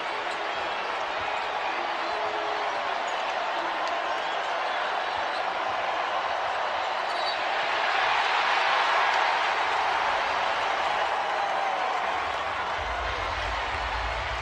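A basketball crowd at Rupp Arena applauding during a Kentucky versus Mississippi State men's game: steady, dense clapping and cheering filling the arena, swelling briefly partway through, under announcer commentary.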